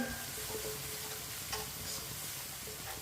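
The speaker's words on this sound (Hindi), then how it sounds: "मसालों को 1 मिनट के लिए पका लेंगे" Red chili powder and turmeric sizzle in hot oil in a pan over low heat, a close, steady crackling hiss that holds for a few seconds with no talking.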